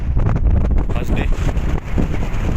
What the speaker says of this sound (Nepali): सरर हावा आइरहेको छ